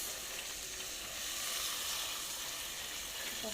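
Lentils tipped into hot oil in a single pot while cooking koshari, giving a steady, close, broadband sizzle and crackle with fine spattering that holds for a few seconds, no voices.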